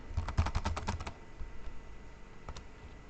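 A password is typed on a computer keyboard during a JDK install on Mac OS X: a quick run of close, crisp keystrokes for about a second, a pause, then a final pair of key taps.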